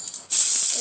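Mustard and cumin seeds hit hot oil for a bitter gourd peel curry, setting off a sudden loud, steady sizzling hiss that stays constant to the end.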